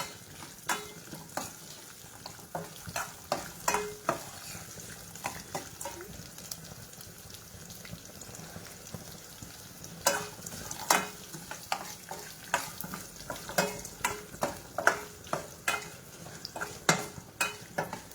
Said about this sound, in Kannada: ಗೋಡಂಬಿ, ಬಾದಾಮಿ ಹಾಗೆ ದ್ರಾಕ್ಷಿ ಮೂರನ್ನು ಕೂಡ ಹಾಕ್ಕೊಂಡಿದ್ದೀನಿ. ಇವಾಗ ಇದು ಚೆನ್ನಾಗಿ ಫ್ರೈ ಆಗಬೇಕು.